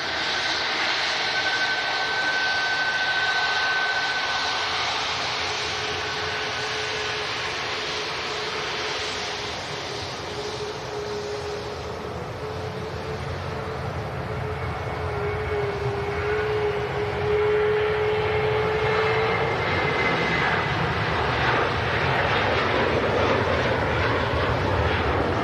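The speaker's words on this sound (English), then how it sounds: "Let's hear them Leap 1 Bravo engines." A Boeing 737 MAX 8-200 in a Buzz livery, powered by CFM LEAP-1B engines, roars steadily and loudly throughout with a rising tonal whine as it passes, heard from an airport spotting position.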